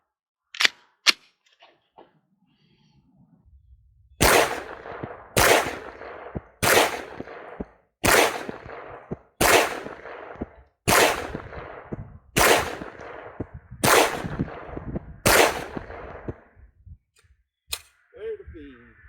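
Around ten loud, close gunshots from 124-grain factory ammunition, evenly spaced about a second apart, each a sharp crack with a short ringing decay, after a couple of isolated earlier pops.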